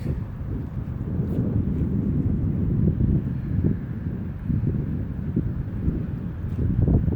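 Strong wind in Reykjavik, Iceland roars and buffets the microphone steadily throughout, a low rumbling gusty noise with no voices.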